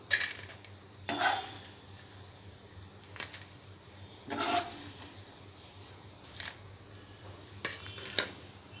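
Green chillies fry in leftover oil in a pan with a soft sizzle underneath, broken by scraping stirs and light clinks of a spatula against the pan at irregular intervals.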